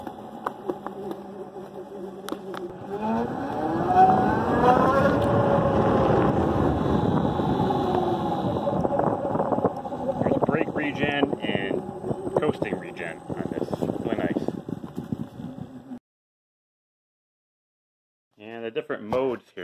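A Zero FXS electric motorcycle in sport mode whines with rising and falling motor tones under heavy wind buffeting as it accelerates and slows under regenerative braking. The sound cuts to brief silence near the end, then returns.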